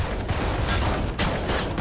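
Rapid gunfire in the Valorant first-person shooter, dense bursts of shots sounding loud and close throughout a short exchange, with no talking.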